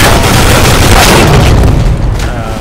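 A flashbang grenade goes off in a tactical shooter video game, a loud close boom with a dense roaring blast that fills the moment and then fades a little toward the end.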